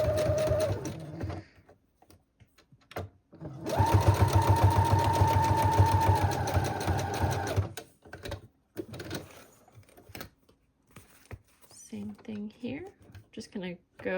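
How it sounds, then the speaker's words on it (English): A sewing machine stitches up the side of a handmade junk journal over a lace closure area, running in a loud steady whirring burst of several seconds, with shorter quieter runs and handling noises before and after. "I will just be sewing up the side to go over the lace closure area."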